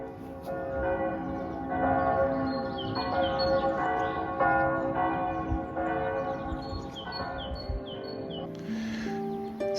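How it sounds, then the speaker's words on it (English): Church bells in Montreuil-sur-Mer ring out in a steady, overlapping peal heard from the town walls, resonant tones layered over one another with faint bird chirps in the background. "can you hear those church bells in the background?"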